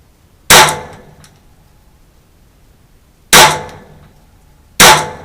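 Three sharp, loud gunshots from a Ruger 22/45 Mark III .22 pistol, each a crisp crack followed by a short ringing decay, spaced unevenly with quiet pauses between.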